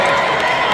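A concert crowd at a show cheers and applauds loudly, a dense continuous wash of voices and clapping for a brief moment.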